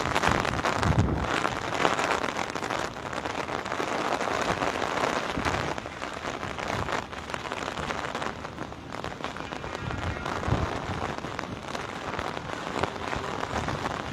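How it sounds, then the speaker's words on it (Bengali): Steady heavy rain falls with gusting wind on a Dhaka street ahead of a storm, a dense continuous wash of drops and gusts that holds close and loud throughout with no voices. "এটি বাতাসের পাশাপাশি এখানে বৃষ্টি পড়ছে।"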